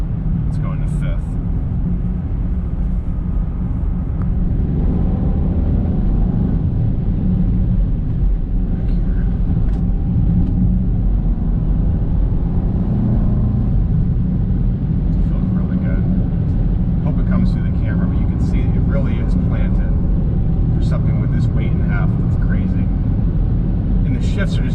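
A 2023 Land Rover Defender V8 Carpathian Edition drives winding roads and downshifts, its engine a steady, heavy rumble under constant cabin noise while someone talks throughout.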